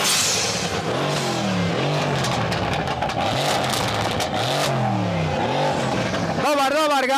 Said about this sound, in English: Evo pogledajte C63 na Stage 2, 620 do 650 konja.